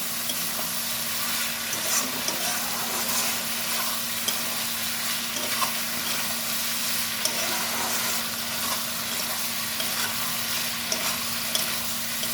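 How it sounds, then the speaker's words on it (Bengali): Ridge gourd frying with poppy seed paste in a pan gives off a steady, even sizzle, close and continuous, broken now and then by faint scrapes of stirring. "এবার ভালো করে কুদলিগুলো পোস্ত দিয়ে ভাজা ভাজা করে নেব"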